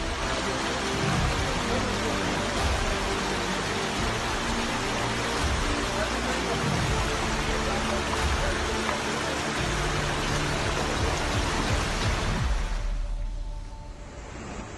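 Torrential rain during deadly floods in Kestel, Bursa province, Turkey, a dense, loud, continuous roar of pouring water that holds steady for a long stretch before dropping away abruptly near the end.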